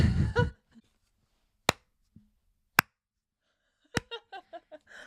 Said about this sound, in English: What you're hearing right now is me clapping